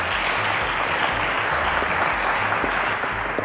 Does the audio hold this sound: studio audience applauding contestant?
yes